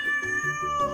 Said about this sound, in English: Yes, that's right. It's a cat.